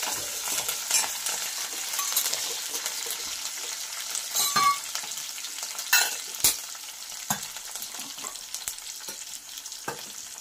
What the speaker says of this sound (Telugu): కొంచెం వేగాలి ఫ్రెండ్స్ ఇది. ఇంకా కొంచెం బ్రౌన్ కలర్ వస్తే టేస్ట్ బాగుంటుంది.